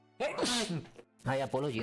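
A sharp human sneeze bursts out close by, followed by a brief spoken apology.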